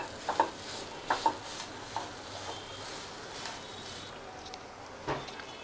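Pea kachori filling is stir-fried in a pan, a low continuous sizzle with a few sharp spoon taps and scrapes early on, quiet and close with no talking.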